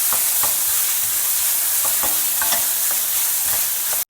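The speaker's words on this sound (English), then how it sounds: "Next I have finely chopped 2 onions. Fry the onions well." Two finely chopped onions frying in oil, a loud, close, steady sizzle with rhythmic scrapes of a spoon stirring the pan and a sharp knock at the very end.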